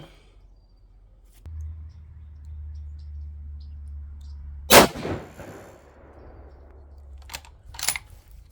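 A 6.5 PRC Bergara B14 HMR rifle fires one loud, sharp shot near the middle, followed by a decaying tail and a low engine-like rumble beneath, with two brief clicks or clanks near the end.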